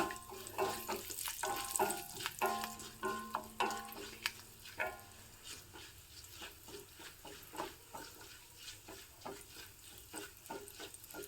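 Hot oil sizzles and spits as curry leaves drop in, with sharp crackles and scraping stirring strokes repeating throughout.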